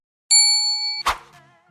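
A single clear notification bell dings and rings out with a bright sustained tone, then ends with a short metallic clang and a quick decaying tail, all alone in silence.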